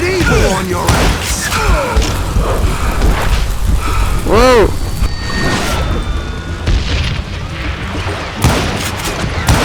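Booming explosions and bursts of gunfire from the video game Call of Juarez: Gunslinger crash repeatedly under excited voices shouting over each other, loud and chaotic throughout.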